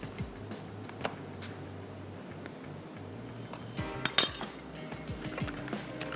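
Metal utensils clink against a bowl while ingredients for chicken malai boti are mixed by hand, soft scattered taps and scraping building to a brief cluster of sharper clinks, close and fairly quiet with no talking.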